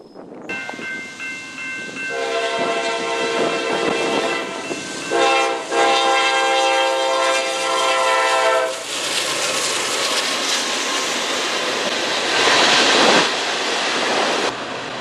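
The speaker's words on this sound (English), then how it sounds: "we stopped at the Sutter Avenue Railroad crossing just south of Erie, Michigan, where we caught a southbound NS coal train." A southbound Norfolk Southern coal freight train rumbles past a railroad crossing near Erie, Michigan, loudly and steadily, its horn blaring in long blasts over the rolling clatter of wheels on rails.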